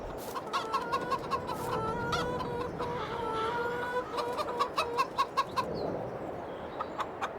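Chickens in the video game Farming Simulator 22 cluck and chatter in a steady flock, with short repeated clucks growing sharper toward the end; no talking.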